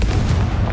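A Confringo blasting spell explosion in Hogwarts Legacy on PS4, heard as a loud, dense, rumbling boom that fills the whole short moment.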